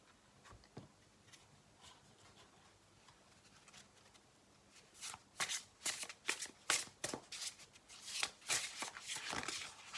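Tarot cards being shuffled by hand, starting with a few faint riffles and then building to a run of louder, close, rapid flicks and slaps in the second half.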